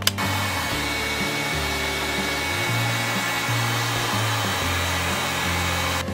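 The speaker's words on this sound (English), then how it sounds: "Now that I've got the details cut in, I'm gonna use a heat gun and you can watch these start to open up." A heat gun blows steadily on craft foam for a sci-fi prop bracer, giving a continuous, fairly loud whooshing drone with a low hum that wavers slightly throughout, with no talking over it.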